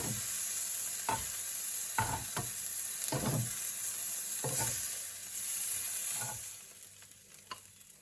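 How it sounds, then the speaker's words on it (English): Continuous loud sizzling of vegetables, prawns and mushrooms stir-frying in a hot pan, broken by repeated scraping and tossing strokes of a spatula roughly every second, close by. "I've finished stir frying all my little veggies and prawn and mushroom"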